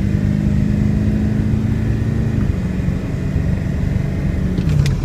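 A 2002 Ford F350 4x4 pickup with a 7.3 diesel engine rumbles along while driving, a loud, steady low drone with a slight dip in pitch midway.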